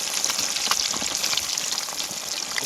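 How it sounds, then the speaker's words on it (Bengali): Pieces of katla fish fry lightly in hot oil, giving a steady close sizzle with small crackles and no voices. "অল্প পরিমাণে ভাজবো খুব বেশি ভাজবো না মাছগুলো"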